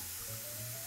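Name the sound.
dry white Riesling wine poured into a pan of sizzling onions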